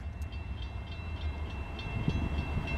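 A BNSF southbound intermodal freight train passes in Marion, Ohio, led by Norfolk Southern 272 with two BNSF units, giving a steady low rumble with faint rhythmic clicks of wheels on rail.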